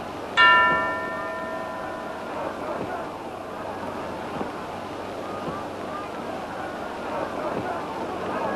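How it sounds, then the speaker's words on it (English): A single ring of a boxing ring bell ending a round in a Schmeling versus Sharkey bout, one sharp metallic strike near the start that rings out and decays over a couple of seconds above a steady crowd murmur. "the bell goes to end a round which was probably won by Max Schmeling"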